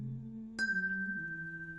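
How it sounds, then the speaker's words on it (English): A bell rings once in the video game Season: A Letter to the Future, a bright chime that sustains as a clear steady tone to the end, over a low background hum. "Bell!"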